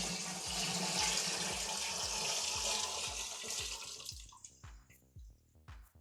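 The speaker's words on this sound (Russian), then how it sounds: "разведу это все еще водой, то есть добавлю еще 3 литра воды." Water pours into a batch of 45-proof homemade moonshine, a loud, steady rushing splash that tapers off and stops near the end, with rhythmic low thumps underneath.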